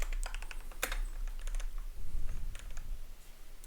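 Quick keystrokes click on a computer keyboard during Python coding, irregular clusters of taps at close range over a faint low background hum.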